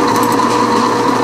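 A small drill bit runs steadily through aluminum plate during boat stabilizer fabrication, boring pilot holes. The drilling whine is loud, close and unbroken.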